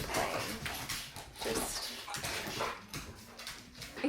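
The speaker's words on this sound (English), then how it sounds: "Also, the dogs are playing." Dogs play nearby with soft whimpers, yips and an occasional bark in short bursts, and a voice briefly speaks over them.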